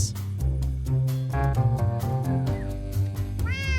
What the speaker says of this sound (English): Hello, Mr. Cat.